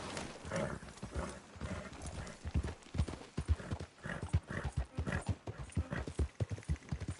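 Rhythmic clip-clop of horse hooves in Red Dead Redemption 2, with a whinny and snorts, steady paced footfalls close by and moderately quiet.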